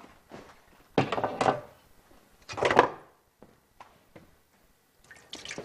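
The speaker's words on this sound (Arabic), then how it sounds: "صفي العدسات" Cooked green lentils drain in a kitchen with a few short splashing pours of water and hollow clunks of a pot or strainer, separated by quiet gaps.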